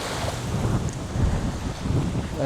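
Steady wind gusting over a lake during summer feeder fishing, a broad continuous rumbling roar with choppy waves lapping, loud and close on the microphone, with no talking.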